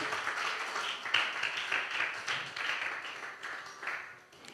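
A church congregation claps for Jesus during a worship service, a fairly faint, steady patter of many hands that gradually fades toward the end.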